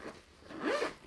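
A zipper on the front flap of a homemade sewn lunch bag is pulled open in one quick, close, rasping stroke that rises toward the end, with no talking.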